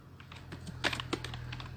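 Quick light taps on a computer keyboard, a short burst of several clicks with a couple of sharper keystrokes, faint and close, over a low steady hum.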